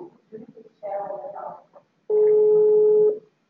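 Steady telephone line tone after dialing a call, a single sustained beep of about a second that follows brief muffled handling and dialing noises.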